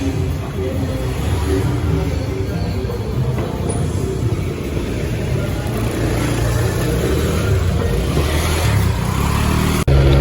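A motor scooter with a repaired and upgraded CVT transmission runs on a test ride, its engine and road noise a loud, steady drone throughout without talking.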